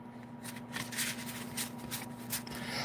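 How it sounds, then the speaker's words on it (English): Tarot cards are shuffled close by in a run of dry riffling, scraping bursts that come in uneven waves over a steady low hum, with no speech. "These tarot, how they shuffle has such a gross sound"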